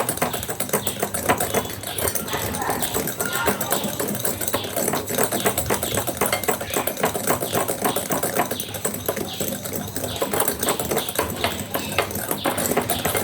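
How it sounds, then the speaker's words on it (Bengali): Sugar, eggs and salt being beaten together in a bowl for a steamed palm cake, a fast, steady clatter of a whisk or spoon against the bowl that continues without pause. "এগুলো এখন খুব ভালো করে মেশাবো। চিনিটা গলে যাওয়া পর্যন্ত মেশাতেই থাকতে হবে।"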